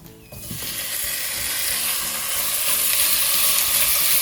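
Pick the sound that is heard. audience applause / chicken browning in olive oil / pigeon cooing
chicken browning in olive oil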